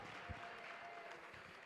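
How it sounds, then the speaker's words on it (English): Applause for contestants at the Miss Chinatown Houston Scholarship Pageant, a steady wash of clapping from an audience, faint and continuous. "Let's give a round of applause to all of our girls."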